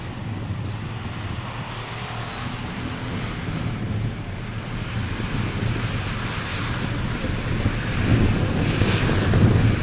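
Drag race cars, including a Herbie Love Bug style Volkswagen Beetle, accelerate down a drag strip in a steady, rising engine roar that grows louder toward the end, with wind rumble on the microphone.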